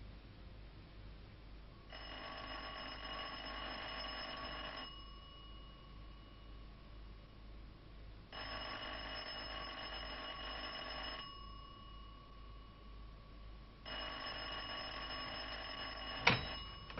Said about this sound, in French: Madame la comtesse a sonné.